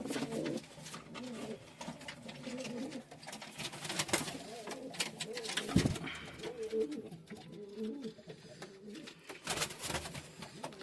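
A pigeon coos on a rooftop over about ten seconds, with repeated low burbling calls. A broad rustle of wind or handling noise runs beneath them.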